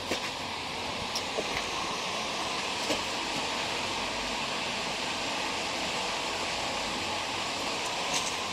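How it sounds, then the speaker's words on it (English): Steady broadband rush of flowing spring water at Lewis Spring in Shenandoah National Park, like a small cascade, constant and moderately loud with a few faint clicks, no voices. "you can hear the water. Listen."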